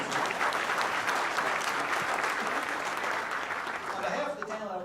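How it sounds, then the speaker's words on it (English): Banquet audience at a chamber of commerce award dinner clapping, dense sustained applause that fades slightly toward the end as a voice begins to speak. "so let's please give her a round of applause."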